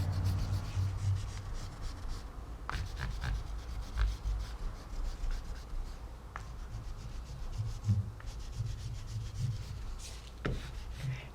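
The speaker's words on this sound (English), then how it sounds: "start smudging, obliterating some of these lines with an eraser" An eraser rubs back and forth over pencil lines on paper, a steady close scratchy scrubbing with occasional sharper strokes, no talking.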